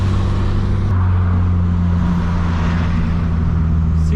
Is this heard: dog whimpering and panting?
no